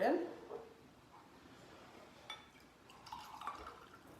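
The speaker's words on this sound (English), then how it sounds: "Pour it in." Christmas punch is poured into a cup, producing a brief splash and soft liquid trickling, fairly faint and close, with a few small clinks.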